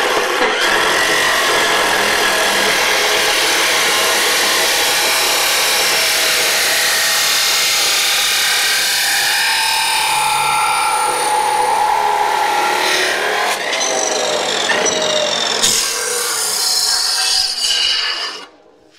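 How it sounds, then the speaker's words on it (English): A chop saw cuts through steel tube for a custom tube bumper, a loud continuous grinding whine lasting many seconds, shifting in pitch as the blade bites through, then ending abruptly as the cut finishes, close and alone. "That's why I like chop saws, they're just so quick."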